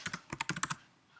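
Quick keystrokes on a computer keyboard, about eight close, crisp clicks in a fast burst, then quiet.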